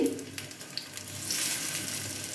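Vegetarian jackfruit seed kababs frying in hot oil make a continuous close sizzle with small crackles and pops, and no one speaks.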